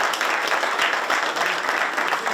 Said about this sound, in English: Y'all clap it up for those guys.